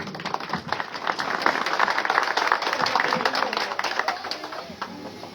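An audience claps at the opening ceremony of a family health center, a moderate burst of applause with scattered individual claps and some voices mixed in.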